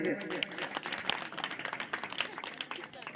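Enthusiastic clapping from an audience at a live stage hypnosis show, irregular and fairly close, mixed with a voice talking over it.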